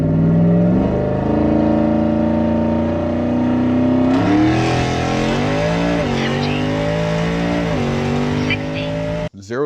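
A twin turbo Coyote F-150 pickup on 93 pump gas and drag radials launches hard on a drag run, its loud engine climbing in pitch through several sharp upshifts before cutting off abruptly.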